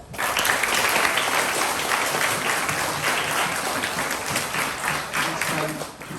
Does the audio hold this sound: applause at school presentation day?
yes